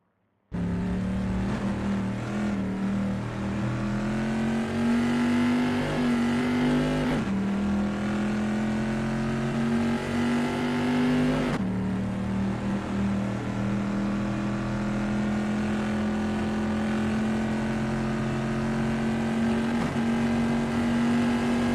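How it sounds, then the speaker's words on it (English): Bizzarrini race car in a pre-1973 qualifying session at Imola, driving through the Rivazza corner, its engine droning loud and steady with rising and falling revs and two sharp gear-change breaks, no voices. "Benjamin Nash appears focused and prepared driving through Ravazza"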